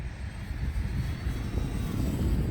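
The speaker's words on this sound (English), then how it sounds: "Here we go, full throttle climb." An E-flite Valiant 1.3m RC airplane climbs at full throttle, its electric motor and propeller giving a steady loud buzzing drone that holds throughout.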